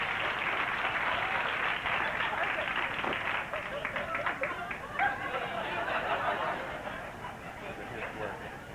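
A studio audience at a 1989 daytime talk show applauds, a dense steady wash of clapping that holds loud for several seconds and then begins to fade, with some chatter and laughter mixed in.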